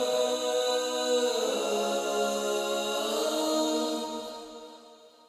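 Layered background vocals from the choruses of a rock ballad cover, a sustained stack of blended voices holding chords, moderately soft and steady, with no lead singer, slowly fading out at the end.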